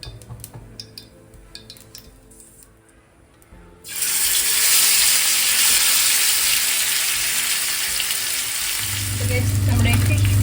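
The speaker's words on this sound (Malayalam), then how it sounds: "നമ്മുടെ ഫിഷ് ഫ്രൈ ഇവിടെ റെഡി ആയിക്കൊണ്ടിരിക്കുകയാണ്." Fish frying in oil in a home kitchen begins as a quiet background hum, then breaks into a loud, dense sizzle that lasts to the end, with a low steady hum joining near the close.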